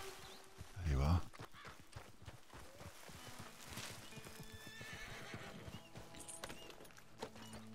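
A horse in the video game Red Dead Redemption 2 gives one loud, close whinny, then its hooves keep a steady clip-clop against a bed of game ambience.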